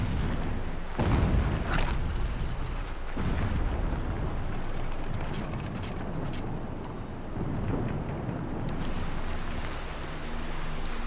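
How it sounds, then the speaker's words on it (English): Muffled booms rumble in a sci-fi open-world action game, several deep distant blasts with low rolling echoes over a steady ambient hiss. "Explosions in the distance."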